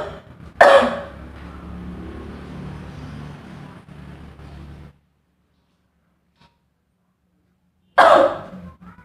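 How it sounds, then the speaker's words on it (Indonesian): Someone demonstrating an effective cough during breathing exercise practice gives one sharp close cough, then breathes out for a few seconds of steady exhalation. Silence follows before a second forceful cough. "seperti itulah batuk efektif"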